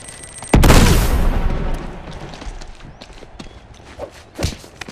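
Gunfire in the video game Uncharted 2 Among Thieves Remastered: one loud booming shot with a long rumbling tail, followed by a few fainter distant cracks.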